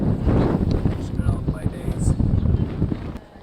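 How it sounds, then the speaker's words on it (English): Wind blowing hard across a snowy Swiss Alps mountainside in sub-zero cold, a steady low roar of gusts buffeting the microphone, loud and close, fading slightly at the end. "It's windy."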